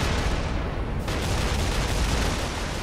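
An air-support bombardment in the Halo Reach video game lands as a loud, dense wash of explosive rumble and crackling debris that holds steady throughout the short stretch.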